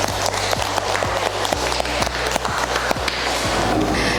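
Students at an outdoor school lesson clap for a presenting group, a loud, close, uneven patter of hands with some sharp individual claps and a low background rumble.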